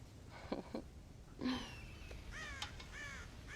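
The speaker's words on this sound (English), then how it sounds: "God damn crows!" Crows caw around a farm silo full of corn in the video game Red Dead Redemption, a few harsh calls scattered over a few seconds, moderately close against a quiet outdoor background.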